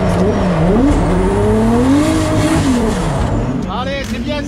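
A Toyota Supra drift car at a French drift championship roars with a wavering, revving engine tone close by, tires squealing, and then a rising rev at the end.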